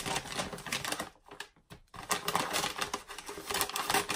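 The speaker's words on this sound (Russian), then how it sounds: "Беспощадно ее открываем." A courier-delivered subscription box of marker art supplies is torn open up close, a dense run of crackling, rustling packaging noise with a brief pause midway before the ripping resumes.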